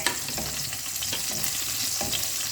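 Small onions and curry leaves frying in oil for a fish curry, giving a close, dense, steady sizzle with light crackles all the way through, with no voices.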